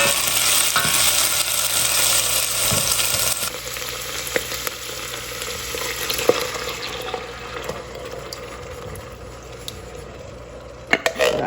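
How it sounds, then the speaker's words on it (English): Onions cook in hot oil in a pan with a loud continuous sizzle that drops in intensity partway through, dotted with occasional clicks and scrapes of stirring, close up with no talking. "You're going to cook these until the onions are tender."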